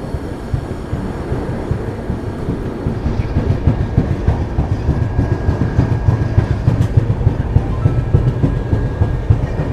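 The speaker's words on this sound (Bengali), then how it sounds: "তো মেজদা স্টেশন থেকে আমাদের ট্রেন ছেড়ে বেরিয়ে গেল।" Shalimar superfast express train (22641) leaving a station on the Howrah–Kharagpur line, a continuous loud rumble of wheels on rails with rhythmic clickety-clack heard from inside the coach, with no talking.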